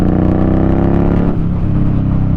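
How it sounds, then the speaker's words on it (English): A 2018 Indian Scout Sixty cruiser motorcycle engine revs loud and close, a steady throaty drone that shifts pitch partway through as the throttle changes, with no talking. "this bike sounds incredible"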